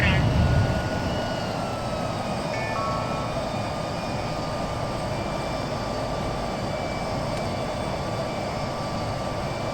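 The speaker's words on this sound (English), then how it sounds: "Oh, my engines are overspeeding." Steady jet engine roar from a variable-geometry aircraft in a flight simulator game, engines overspeeding at high Mach; a continuous broadband drone with faint whining tones, a voice talking over it.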